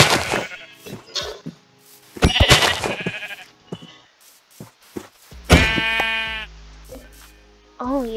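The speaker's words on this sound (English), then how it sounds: "Oh, sheep! I see some sheep." Sheep bleating in the video game Minecraft, several short wavering bleats separated by gaps, with thuds and other game sounds in between, fairly close and loud.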